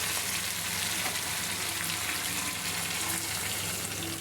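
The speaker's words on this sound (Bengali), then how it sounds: "একেবারে ভাজা ভাজা করে কষাইছি" Masala being sautéed in a pan before water is added, a continuous dense sizzle and hiss throughout with faint stirring, close and even, with no talking.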